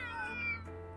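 In the video game Trails Through Daybreak II, a sad cat gives a single drawn-out, plaintive meow that falls in pitch over about half a second. It is fairly close and clear over a low background hum.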